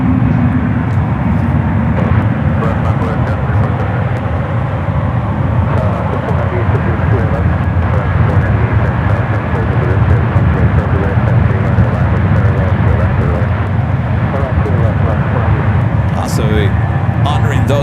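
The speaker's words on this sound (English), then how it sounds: "Air New Zealand flight 8 coming up from Auckland in that Dreamliner." An Air New Zealand Boeing 787 Dreamliner arrives at San Francisco from Auckland, a continuous loud jet engine roar running throughout while a voice talks over it.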